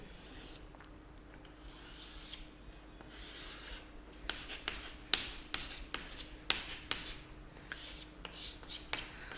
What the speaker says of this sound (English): See, I will draw the male cone.